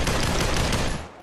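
Rapid gunfire from the game Population One, a dense automatic burst of shots that sounds loud and close before trailing off at the end.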